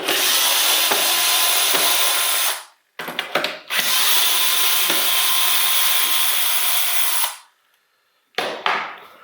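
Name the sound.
Dremel rotary tool working on an old boombox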